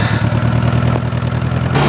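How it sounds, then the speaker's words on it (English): A 2002 Toyota Corolla running on a junkyard engine idles steadily up close, a low rhythmic engine drone with a slight rise in pitch near the end, no talking. "Looks like we got a running, driving Corolla today, boys."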